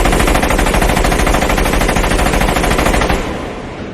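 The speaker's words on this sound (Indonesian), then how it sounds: "menembak mati semua pengawal Roney dengan rentetan tembakan senjata otomatis Thompson" Thompson submachine gun fires in rapid continuous bursts during a film shootout, a loud dense rattle of automatic gunfire that cuts off and leaves a fading echo near the end.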